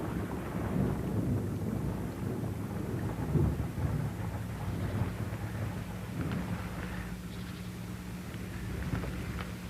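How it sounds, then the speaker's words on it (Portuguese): Heavy raindrops fall steadily through a forest, making a dense, continuous patter with deep rumbling underneath and occasional louder splashes close by. "a pesada gota de chuva que penetra a floresta"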